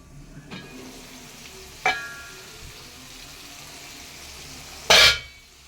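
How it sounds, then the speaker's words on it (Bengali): A turmeric-spiced masala fries in a pan for a home-style mutton curry. It gives a soft sizzle with a few stirring scrapes and one loud burst of sizzle near the end, close up, with no talking. "এদিকে দেখুন মশলাটা কষিয়ে দিয়েছি"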